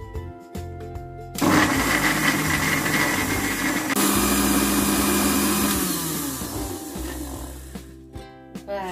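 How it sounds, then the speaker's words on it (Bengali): Mixer grinder blending beetroot pieces into paste, a loud whirring motor that kicks in after a brief pause, runs steadily with a shift in pitch midway, then cuts off. "আগে মিক্সিতে পেস্ট করে নেবো।"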